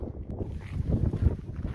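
Gusty wind on a mountain summit on the Appalachian Trail buffets the microphone in low, uneven rumbles, a rough blustery roar with no other sounds.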